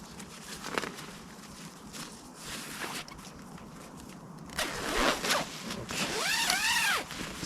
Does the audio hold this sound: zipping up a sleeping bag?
yes